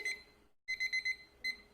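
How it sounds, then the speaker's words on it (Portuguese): A timer alarm goes off during a live online class, a quick cluster of faint high beeps in short repeated bursts, with a gap and then one more beep, heard alone with no talk. "Alarme do tempo, gente."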